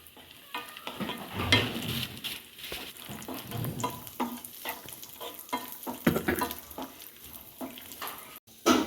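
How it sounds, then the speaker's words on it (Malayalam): Cashews and raisins sizzle in hot coconut oil as a spoon stirs and scrapes the pan steadily, crackling throughout at a moderate level. "ആ വെളിച്ചെണ്ണയിലേക്ക് തന്നെ നമുക്ക് നമ്മുടെ അണ്ടിപ്പരിപ്പ് മൂപ്പിച്ചെടുക്കാം"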